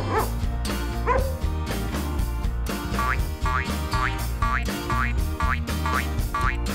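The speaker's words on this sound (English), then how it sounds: "Dog." A cartoonish dog barks in a children's animal-sound game: a string of short, springy yips repeats in a steady rhythm over upbeat background music.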